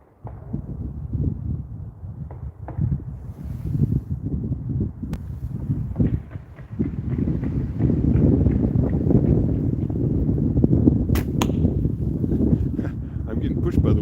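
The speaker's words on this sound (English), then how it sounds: "I had a gust of wind and it pushed me" Outdoor wind gusting against the microphone during cold-weather archery practice, a steady low roar that swells and stays strong for the second half, with a few faint knocks in the background.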